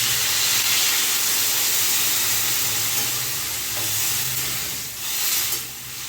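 Water poured into a pan of sizzling spiced mixed vegetables for a vegetarian Bengali dish gives a loud, steady broadband sizzle and hiss that carries on throughout, dipping briefly near the end.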